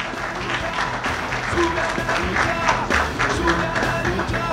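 Applause and crowd noise in the VIP section at a Lucha Extrema wrestling show, continuous clapping that rises and falls, with a voice speaking over it.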